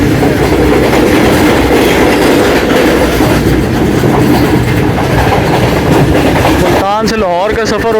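Karachi Express passenger train running between Multan and Lahore, a steady loud rumble and clatter of wheels on rails throughout, with a brief squealing, warbling tone near the end.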